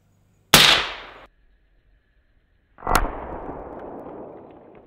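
300 Blackout rifle fired at concrete bricks in a penetration test: two loud, sharp cracks a couple of seconds apart, each followed by a trailing ringing decay, with silence between and no talk.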